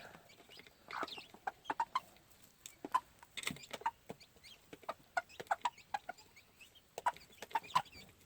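Old black gamefowl chickens cluck in a string of short, sharp calls with brief pauses, close by and fairly clear over a quiet farmyard background, with no talking.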